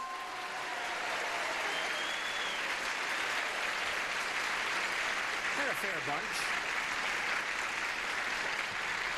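Studio audience applause on a 1975 television game show fills the clip at a steady level, while a voice speaks briefly over the clapping partway through.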